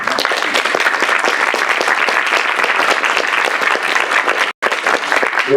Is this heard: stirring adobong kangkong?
no